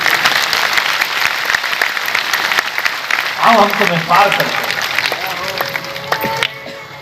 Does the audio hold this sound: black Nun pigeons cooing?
no